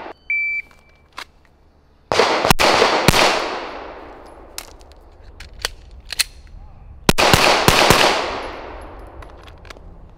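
Gunshots fired during a shooting reload drill: a beep, then a few sharp close cracks, a gap for the reload, and another rapid cluster of loud shots with ringing decay.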